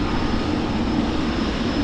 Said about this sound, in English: Lovely treat for us at the ship's mound is the DHL flight taxiing on the